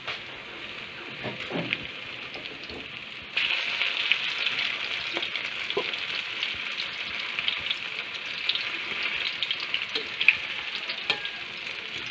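Cabbage omelette (tortang repolyo) frying in a pan, a steady close sizzle that swells louder partway through and keeps crackling with small pops, no voices over it.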